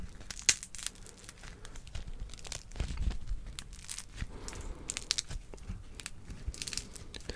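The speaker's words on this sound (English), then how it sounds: "But do you ever crunch your toast?" Toast is crunched and crumbled close up in a quiet room. Crisp crackles and snaps come in irregular bursts, with no voices.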